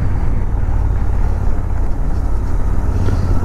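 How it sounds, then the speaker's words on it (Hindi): Royal Enfield GT 650 motorcycle engine on a cold mountain road, a steady loud low rumble with heavy wind buffeting the microphone throughout. "क्या आवाज आ रही है इधर बाइक की।"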